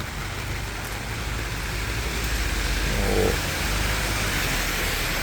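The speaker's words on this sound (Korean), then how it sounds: "비가 많이 옴 비가 떨어집니다" Heavy rain falls steadily in a dense, constant hiss outdoors along a walking commute. A faint low rumble sits beneath it.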